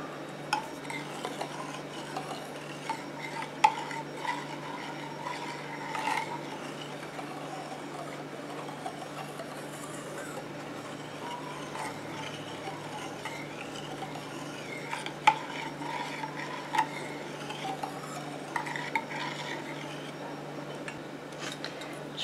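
A homemade liquid repair shampoo mixture being stirred in a container, soft continuous swishing with faint clinks of a utensil against the vessel, close and fairly quiet over a low background hum.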